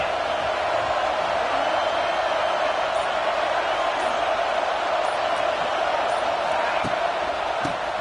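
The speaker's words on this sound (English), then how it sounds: "This crowd trying to make life miserable for this offense." A football stadium crowd roars steadily during a play near the 16-yard line, a broad, continuous wall of distant noise with scattered thumps, running beneath a play-by-play commentator's voice.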